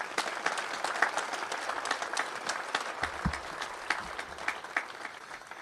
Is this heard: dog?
no